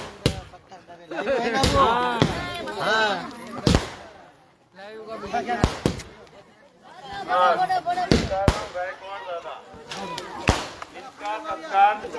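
Firecrackers burst during an outdoor community celebration: several sharp, loud bangs scattered irregularly across the scene, some in quick pairs, amid crowd chatter and people talking nearby.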